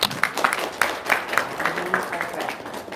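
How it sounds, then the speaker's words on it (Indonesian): An audience at an Indonesian religious talk claps in a loose burst of overlapping hands with speech-like sound mixed in, close and fairly loud throughout. "tepuk tangan dong"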